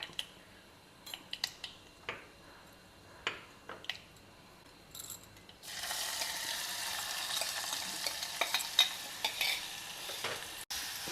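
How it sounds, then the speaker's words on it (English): Light utensil clicks and taps in a pan with mustard seeds and cumin in oil give way to a sudden loud, steady sizzle as finely chopped onion hits the hot oil and fries, with occasional stirring knocks. "Fry the onions well for a couple of minutes."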